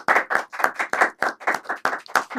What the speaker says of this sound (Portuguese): Essas palmas são muito boas.